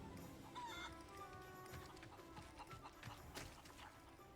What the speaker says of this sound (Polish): Kury!